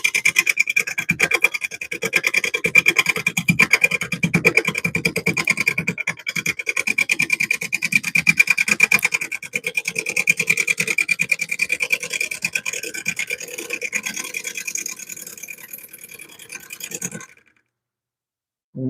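A wooden bowl turning on a lathe, with the tool anchored on its bevel giving a continuous, rapid, rhythmic scraping and rasping cut for about seventeen seconds before it stops abruptly.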